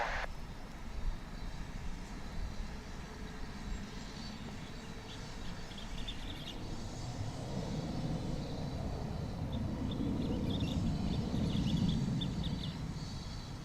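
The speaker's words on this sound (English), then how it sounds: "Savor this takeoff because I don't know how many more we're going to have." An airliner taking off at DFW International Airport, a steady distant jet roar that slowly builds and swells in loudness toward the end, heard alone without talk.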